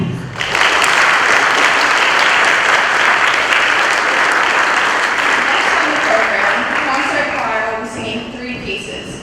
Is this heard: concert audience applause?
yes